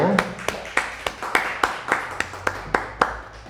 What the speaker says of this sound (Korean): 우리 다 같이 박수로